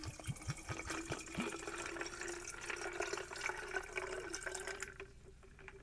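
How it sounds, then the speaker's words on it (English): Cold water is poured over ice cubes into a canteen, a faint, steady trickling pour with small clinks of ice near the start, fading to quiet at the end. "we're going to fill that up with, as they suggest, 12 ounces, half of a canteen of cold water."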